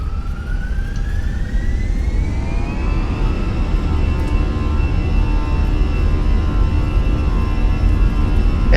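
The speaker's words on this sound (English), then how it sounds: "Stand the thrust levers up." Airbus A320 jet engines spooling up to takeoff thrust in Microsoft Flight Simulator 2020, a loud, steady roar under a whine that rises in pitch and then holds level, heard alone without speech.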